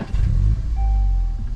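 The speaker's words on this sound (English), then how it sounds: "I love the way this car sounds when it starts." A 2022 VW GTI S engine starts up with a loud, close crank and catch, then settles into a deep, steady idle rumble, with a faint electronic tone running above it.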